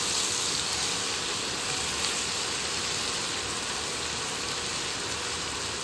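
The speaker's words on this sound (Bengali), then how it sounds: "এবার নাড়াচাড়া করছি, কষানো" Chickpeas with minced meat being stirred and sautéed in a hot pan, giving a steady, continuous sizzle with faint scraping, close and even throughout with no talking.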